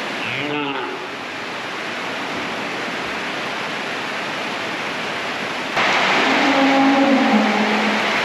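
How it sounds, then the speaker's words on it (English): A waterfall in Ireland roars as a steady broadband rush, growing louder partway through, while a voice is heard briefly over it early on and again later. "this beautiful waterfall here is one of the wonders of Ireland"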